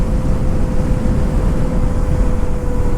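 A motorcycle rides along the road near Bethuadahari, its engine a constant low drone with a steady hum, mixed with heavy wind rumble and no talking.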